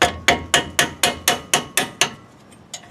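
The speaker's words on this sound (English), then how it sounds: "I'm going to put that on, use a mallet" A mallet striking a 19 mm wrench to loosen a brake caliper bolt on a 2007-2014 Chevy Silverado, nine sharp metallic blows in a steady rhythm and one last lighter tap after a pause, close and loud.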